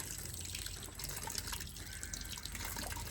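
Water splashes and trickles over shoes being wetted for washing, a close, steady patter and drip at low level with no talk.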